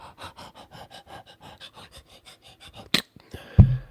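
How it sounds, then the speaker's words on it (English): A person pants heavily in a quick, steady rhythm of short breaths, close and fairly faint, ending with a sharp gasp and a louder thump-like exhale. "Panting like a dog."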